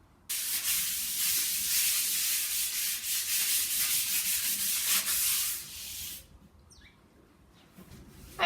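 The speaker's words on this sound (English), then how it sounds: "any rough spots I'm just going to use a piece of low grade sandpaper just to rub off any high spots" Low-grade sandpaper rubs rough, high spots off a surface before painting, a close steady hiss of back-and-forth strokes lasting several seconds, then stopping to near quiet with a faint bird call.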